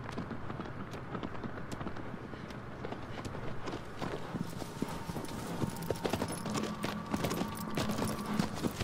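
Horse hooves clip-clopping in a rapid, steady galloping rhythm in the Shadow of the Colossus video game, quiet and continuous with faint background ambience.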